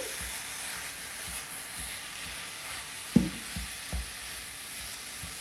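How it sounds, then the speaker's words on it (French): Ground meat sizzling in a pan after translucent onions, crumbled with a spatula, a soft steady fry broken by a few sharp scrapes and knocks, no talking. "on va rajouter notre viande hachée. On va venir l'émietter à l'aide d'une spatule"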